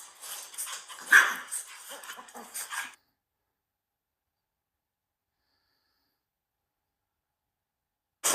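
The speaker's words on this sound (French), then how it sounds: "Il y en a 600 de chiens" A burst of many dogs barking together at close range in a home kennel for a few seconds, then sudden silence.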